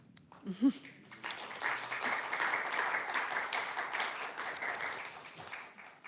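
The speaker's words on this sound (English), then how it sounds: "I'd love to give a little round of applause for staff." A public art commission meeting audience gives staff a round of applause, a steady wash of many hands clapping that builds after a brief spoken moment and holds evenly to the end.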